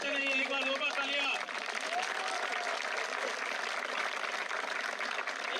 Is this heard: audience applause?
yes